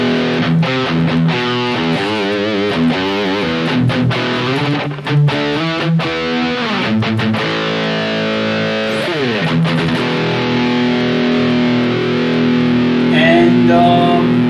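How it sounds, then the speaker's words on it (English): Distorted electric guitar riffs chug through a full, boxy amp tone from a Bugera G5 Infinium direct out with 4x12 cabinet emulation, with palm-muted rhythms and sustained chords, loud and alone. "I'm using currently the 4x12 emulation"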